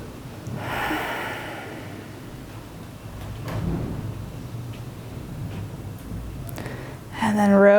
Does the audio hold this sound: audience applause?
no